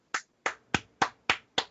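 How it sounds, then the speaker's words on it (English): Six sharp, evenly spaced hand claps in quick succession, crisp and close, with no talking. "I know why you're clapping."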